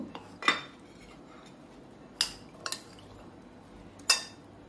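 A spoon clinks and scrapes against a bowl while chopped onion and tomato are mixed for a corn chaat, four or five sharp, spaced knocks over a quiet background.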